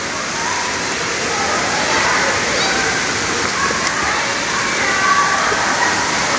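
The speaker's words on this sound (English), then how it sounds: "Look at him swimming." A young child swims and splashes in a pool, making a steady, rushing wash of water with churning splashes, loud and close, while voices sound faintly beneath it.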